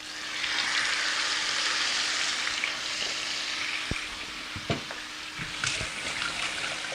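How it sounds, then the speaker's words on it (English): Chicken pieces for kombdi vade, seasoned with masala and asafoetida, frying in hot oil over high heat, a steady loud sizzle throughout with a few sharp clicks and stirring knocks near the end, no talking. "I am just frying this chicken"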